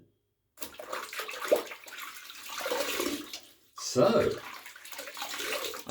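Water runs from a tap while shaving lather is rinsed off, a steady close splashing wash that pauses briefly and then resumes, with someone speaking a word over it.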